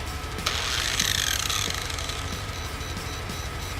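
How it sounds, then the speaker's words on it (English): An angle grinder switched on while running from a Harbor Freight 200 watt power inverter, a brief rising mechanical whir that surges, then drops away into a low steady hum, close by with no talking. "Now I'm going to go ahead and try this grinder."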